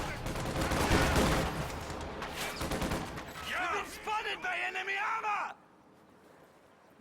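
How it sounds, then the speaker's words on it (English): Rapid gunfire between Panzer Grenadiers and riflemen in the Company of Heroes 2 strategy game, dense bursts of rifle and machine gun fire and flamethrower blasts under a commentator's voice, then a sudden drop to quiet. "Panzer Grenadiers engaging against riflemen with flamethrowers"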